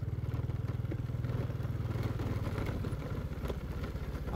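A motorcycle idles at low volume with a fast, even pulsing throb, while a loose key rattles and clatters against it in a continuous light tapping, with no talk.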